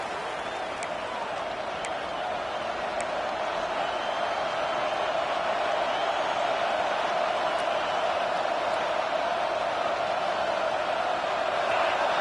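Crowd at a college football stadium during a Texas Tech at Texas game on 3rd down, a steady distant roar of many voices holding a constant loud wash that swells slightly toward the end.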